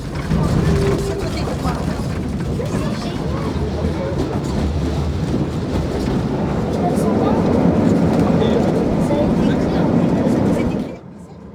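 Belgian tram motorcar 984, green with yellow accents, hauling open-air trailer 301: a steady, loud rumble of riding with rattling wheels and wind, continuous for about eleven seconds before dropping off sharply at the end.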